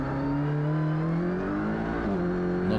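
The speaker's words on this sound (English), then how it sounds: "Too much wheel spin on the acceleration and build up the speed for the straight." An Audi RS3 LMS touring race car at Motorland Aragon accelerates hard out of a turn, its engine note rising steadily and loud from the onboard cockpit, pitch dipping briefly at a gear change.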